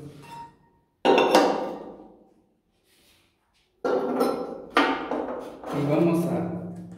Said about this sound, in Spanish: Ahora vamos a poner los quemadores